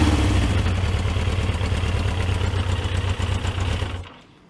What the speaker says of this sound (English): I have started the bike just to make sure it runs, but yeah, she is running.